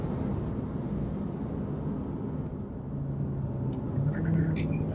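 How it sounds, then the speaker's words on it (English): A Renault Megane GT with a dual-clutch gearbox laps Rockingham circuit, its engine a steady rumbling drone that swells near the end with a quick throttle blip on a downshift, heard from inside the car. "It does a little throttle blip on the downshift as well, just to keep it nice and smooth"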